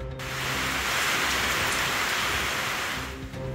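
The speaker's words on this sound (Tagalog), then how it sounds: "Umula sa ilang bahagi ng bansa kahapon." Sudden rain falls in Virac, Catanduanes, during high heat, a dense steady hiss of drops on surfaces, loud and even throughout with no talking.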